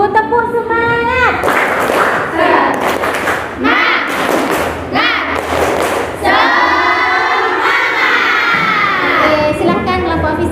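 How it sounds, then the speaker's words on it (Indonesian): Students in a classroom doing a rhythmic spirit clap, loud group claps and thumps mixed with children's shouting and chanting voices, close and energetic throughout. "Tepuk semangat."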